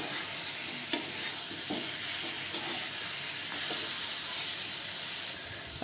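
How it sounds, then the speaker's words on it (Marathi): Potato slices with salt and masala sautéed on high flame, a steady sizzle with occasional sharp scrapes and stirs against the pan, close and continuous. "त्यामध्ये चवीनुसार मीठ टाकायचे आणि आपण परतून घेऊया परत"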